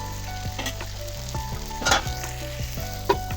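Papaya pieces fry with spices in a pan, a steady loud sizzle broken by repeated spatula scrapes and knocks at an uneven rhythm.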